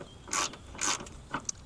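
Ratchet wrench loosening headlight bolts on a Mitsubishi Eclipse, three quiet, close rasping clicks of the pawl followed by a small metallic tick.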